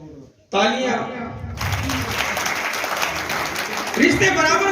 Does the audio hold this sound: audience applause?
yes